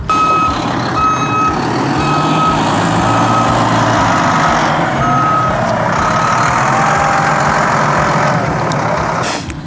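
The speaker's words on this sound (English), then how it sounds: "That was a garbage truck right next to me" Garbage truck right beside the listener, its diesel engine rumbling loudly and continuously while a reversing alarm beeps in a steady, evenly spaced rhythm throughout.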